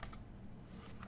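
Soft, quick keystrokes on a computer keyboard as a web address is typed, heard faintly over about a second.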